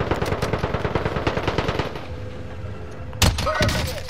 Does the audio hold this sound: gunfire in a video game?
yes